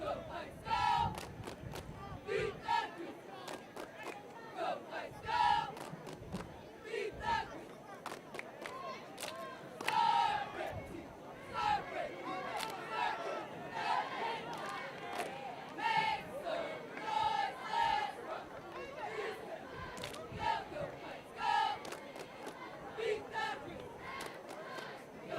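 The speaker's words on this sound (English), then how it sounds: "So here's the cheerleaders for Heights" High school cheerleaders at a Wichita Heights football game against Wichita Northwest shout rhythmic chants over and over, with sharp accented calls and stomps against a background crowd murmur.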